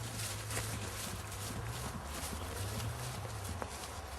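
A horse trotting, its hooves clip-clopping in a steady rhythm, close and fairly loud against a constant low background hum.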